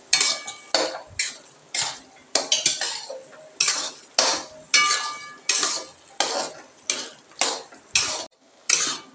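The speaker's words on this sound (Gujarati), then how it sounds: "હવે આપણે તેમાં થોડો કસ્ટર્ડ પાવડર એડ કરતા જઈશું અને તેને હલાવતા જઈશું।" Rhythmic scraping and clinking of a spoon stirring custard powder into bottle gourd halwa in a pan, about a dozen regular strokes, close and clear with no talking.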